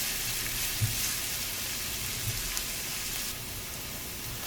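Chopped onions and pimentos with a little salt sweat in hot oil, giving an even, close hiss with a few soft pops that eases slightly near the end.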